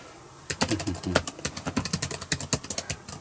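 Rapid, close keystrokes on an inote X-Folding Pro Gold Edition folding keyboard begin after a brief quiet pause and continue as a steady run of crisp, irregular clicks.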